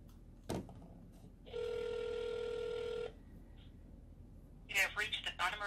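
A phone call to the Leon Valley police rings out once as a single long electronic ring tone, fairly clear and close, after a brief click, with a voice starting to speak at the end.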